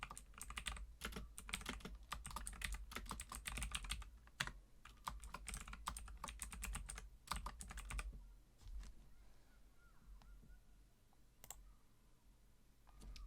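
Computer keyboard typing during a Windows XP setup, with fast, close clicking keystrokes in dense bursts for about eight seconds, then a few scattered key presses, with no talk.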